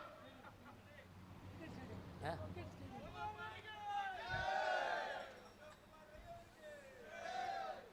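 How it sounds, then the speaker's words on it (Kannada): Crowd at an outdoor political rally in Puttur's Kille Maidan raising chanted victory cries, swelling voices in two loud surges after a stretch of murmuring hubbub. "ಒಮ್ಮೆ 2 ಸಲ ಜೈಕಾರ ಹಾಕೋಣ."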